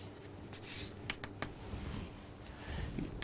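Handwriting for a maths lesson on solving a problem by Euler's method, a quiet scratching of pen or chalk with a few short sharp strokes and rubbing sounds, close and steady with no talk.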